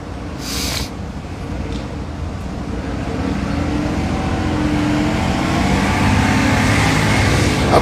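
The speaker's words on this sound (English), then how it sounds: "I'm chilling at the bus stop." Steady road traffic hum and passing vehicles heard from a bus stop in Savannah, Georgia, a continuous broad rumble that builds slightly louder over the span, with a brief hiss near the start.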